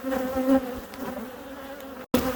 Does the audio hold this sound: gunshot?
no